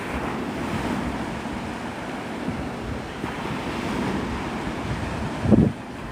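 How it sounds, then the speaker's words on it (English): Ocean waves breaking on the sand at Navarre Beach, Florida, at sunrise, a steady low surf roar with wind noise on the microphone and a brief louder thump near the end, no voices. "Can't really see the water hit the sand because there's a big old hill."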